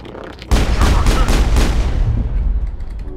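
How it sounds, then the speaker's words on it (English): Gunfire in the game Mass Effect, a sudden loud burst of rapid shots that keeps rattling and booming for a few seconds, close and dense. "Something was shooting me."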